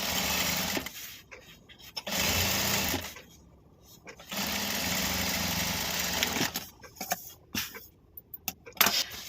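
A sewing machine stitches a fabric pouch for a festival return gift, running in steady whirring bursts of a second or two separated by pauses with quieter handling sounds and clicks.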